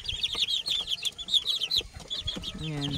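Chickens and newly hatched chicks in a small chicken farm, with a dense chorus of high, rapid peeping from the chicks over soft, low clucks, close by. A voice speaks briefly near the end.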